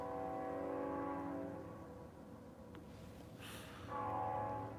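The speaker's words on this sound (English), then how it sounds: "Got another train coming." A train comes round the bend as a distant steady horn tone sounds, fades and then returns, over a low rumble of the rolling train. It is faint and heard from afar with no talking.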